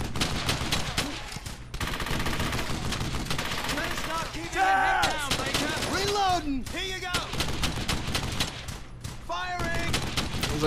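MG-42 machine gun fire in the World War II shooter Brothers In Arms: Hell's Highway, with dense bursts of rapid shots running through the whole stretch amid other gunfire, while voices talk and shout over it.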